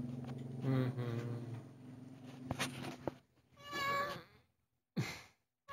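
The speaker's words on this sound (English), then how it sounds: "How are you, Kitty" A house cat meows several times indoors, close and clear, with someone speaking softly to it around the calls in a home kitchen.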